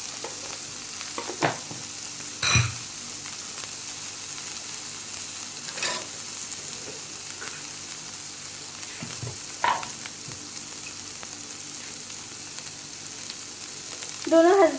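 Egg fried rice is mixed and stir-fried in a pan, with a soft steady sizzle under occasional sharp scraping knocks of a spatula spaced a few seconds apart.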